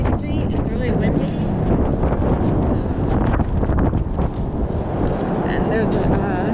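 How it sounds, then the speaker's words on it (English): Strong wind buffets the microphone on a city street in Old City near the Delaware River, a loud continuous roaring rumble with gusty surges throughout, no clear speech over it. "it's really windy"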